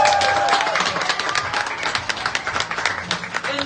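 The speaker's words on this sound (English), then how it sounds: "Can we get a round of applause?" Restaurant crowd applauding an eighth-grade graduate, a dense wash of clapping with scattered cheers and chatter that stays fairly steady and close throughout.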